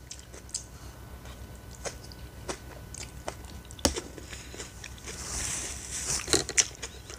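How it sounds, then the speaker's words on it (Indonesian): Someone eats a fresh vegetable salad with shallots and onion up close, making crisp crunchy bites and moist chewing with small clicks. No one speaks. "Kita makan salad sayuran aja ini."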